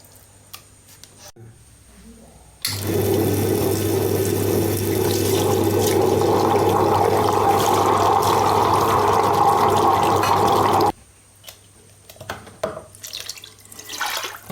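Water used to rinse a grinding stone is poured into banana dosa batter, a steady splashing stream that starts abruptly a few seconds in, runs for about eight seconds, then stops, leaving quiet kitchen clatter.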